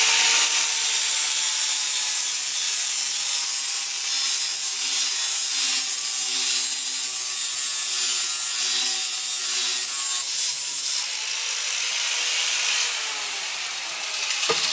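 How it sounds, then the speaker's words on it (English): The tip of a homemade sword made from scrap-yard metal is being ground, producing a loud, continuous abrasive hiss that holds steady for about eleven seconds, then drops lower and tails off. "I'm going to grind it just a little bit."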